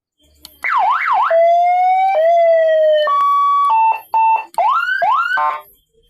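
A siren test plays through a loudspeaker horn with a mic fitted, loud and close, cycling through wailing sweeps, held tones and short yelping bursts.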